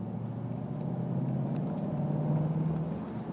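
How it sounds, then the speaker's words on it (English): A 2012 Jaguar XF engine opens up into a low, throaty growl heard from inside the car, a steady rumbling drone that swells slightly as it accelerates, with no one talking. "That noise right there, where you can definitely tell when the engine opens up"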